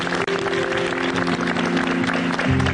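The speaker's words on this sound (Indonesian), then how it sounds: "Luar biasa, tepuk tangan untuk kita semua." Audience applause at an ESQ Generasi Emas evening event, a thick wash of crowd clapping that holds steady throughout, with a sustained tonal hum or music bed running underneath.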